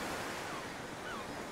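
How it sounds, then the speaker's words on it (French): Ocean waves wash on a beach in a steady, broad hiss of surf, continuous and even, with no voices. "bercés par le murmure des vagues"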